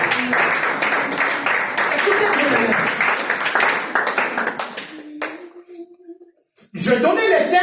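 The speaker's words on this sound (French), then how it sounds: "je pensais que tu allais applaudir pour la gloire de Dieu" A church congregation at a Sunday service claps in a dense, steady burst of applause that thins into scattered claps and brief quiet before a voice and music return.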